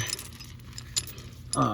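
A metal T-hook tow hook for a car is handled briefly, giving a short close jangle of metal pieces knocking together over faint background hum.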